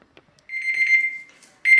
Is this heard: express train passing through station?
no